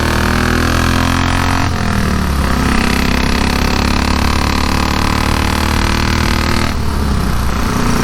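A 1934 Velocette KTT motorcycle engine is revved hard on the throttle, a loud, raspy, continuous roar that rises in pitch, dips briefly, then climbs again.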